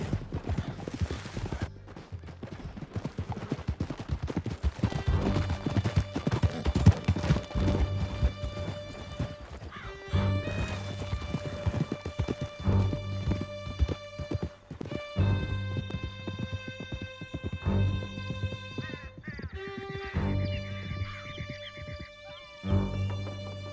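Horses gallop in Red Dead Redemption during a canyon escape, with steady rhythmic hoofbeats clopping throughout alongside music, plus occasional whinnies and a few other sounds.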